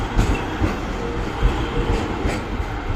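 A train passes in Rome with a continuous heavy rumble and rhythmic wheel clatter, loud and close, alone without voices.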